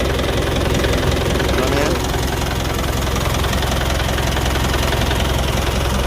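An overhauled engine idles steadily at close range, a continuous low knocking chug with a slight rattle, while people talk over it throughout.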